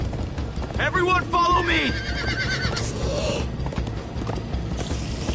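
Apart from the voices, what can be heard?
horses galloping in video game Minecraft: Story Mode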